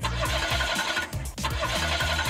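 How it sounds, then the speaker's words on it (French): A car engine cranks repeatedly without catching, a rapid rhythmic churning of the starter that pauses briefly partway through and then resumes, close and fairly loud with no speech. "Mais notre voiture ne démarre pas."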